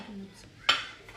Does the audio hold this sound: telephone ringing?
no